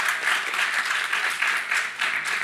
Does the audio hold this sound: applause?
yes